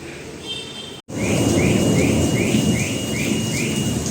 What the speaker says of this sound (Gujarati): ગાજવીજ સાથે વરસાદ ચાલુ છે